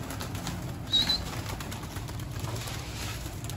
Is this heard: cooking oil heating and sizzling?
no